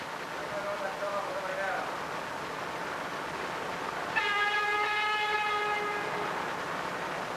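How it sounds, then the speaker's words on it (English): A 1950s New York City local subway train rumbles steadily pulling into a station alongside an express, then a loud horn blares for a couple of seconds near the end over the ongoing rolling noise. "Bob Miller in the cab of the local, pulling in along with the express"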